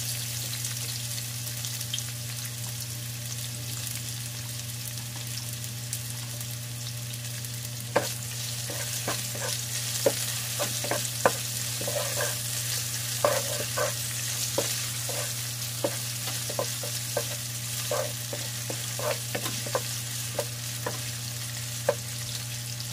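Ginger sautés in a pan for fish escabeche, a soft steady sizzle under a constant low hum, broken by scattered sharp clicks and scrapes of stirring that pick up about a third of the way in.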